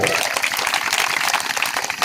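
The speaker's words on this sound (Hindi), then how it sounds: "इनके लिए जोरदार तालियों से स्वागत किया जाएगा।" Applause from a crowd welcoming guests at a human rights awareness event, dense steady clapping with voices mixed in.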